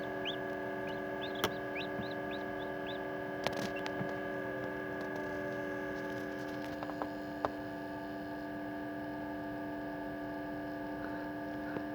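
Faint, high peeping of newly hatched Araucana and Silkie chicks in a quick series early on, over a steady incubator hum with occasional clicks.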